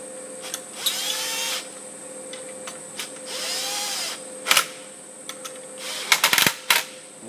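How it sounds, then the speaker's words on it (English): Power drill driving screws back in during a bearing install, several short whirring bursts with pauses between, then a cluster of quick clicks and taps near the end, moderately close in a quiet room. "Screw your screws back in."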